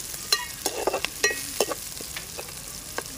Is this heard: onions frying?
yes